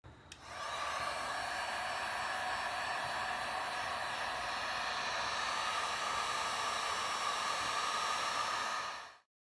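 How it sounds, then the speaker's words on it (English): A heat gun blows hot air onto double-sided tape for a trim piece on an Audi A4 bumper, a steady, even whooshing hiss that starts abruptly, holds for about nine seconds and cuts off sharply. "I'm going to grab a heat gun and heat up the double-sided tape so it's super tacky"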